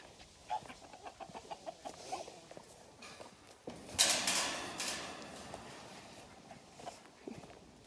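Sunset hens pecking at fresh greens in a cleaned-out coop, soft clucks and scratchy pecking and shuffling, close but quiet, with one louder rustling burst midway.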